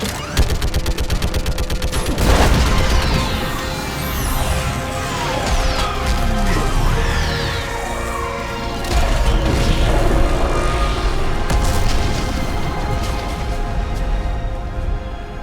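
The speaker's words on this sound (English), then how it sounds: "I need an orbital strike." An orbital strike fires on a live Reaper on Rannoch in Mass Effect 3, heavy booming blasts and rapid crackling volleys filling a loud, dense, mechanical battle soundscape throughout.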